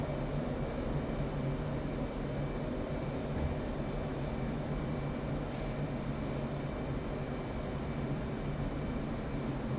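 An F/A-18 Hornet jet in DCS World lowering its gear and flaps, a loud, constant engine roar with a steady whine, unbroken throughout.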